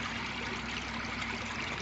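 Water flows steadily from the outlets of a koi pond, a continuous close trickle and stream of current running evenly throughout with no voices.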